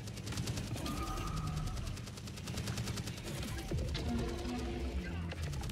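A video game sentry gun fires in sustained rapid bursts, a dense rattling barrage mixed with explosive thuds and other game effects, loud and continuous throughout.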